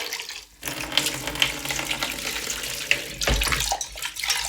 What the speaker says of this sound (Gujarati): ગરમ પાણીથી ધોઈ લેવાનો મસ્તનો તમને દેખાય એકદમ ઘસીને છે ને ધોઈ લેવાનો ગરમ પાણીથી